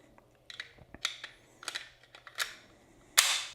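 An empty Ruger LCP .380 pistol is handled and dry-fired, giving a series of sharp, close mechanical clicks and snaps spread over a few seconds, with a louder final click.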